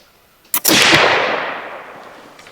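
A single loud, close blast from a Pedersoli .32 flintlock rifle fired at a 30-yard target, the brief pan flash run straight into the main report, which leaves a long fading rumble.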